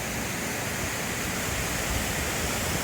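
A set of waterfalls on a river in Albania roars in a steady, dense, loud rush of water with no voices over it.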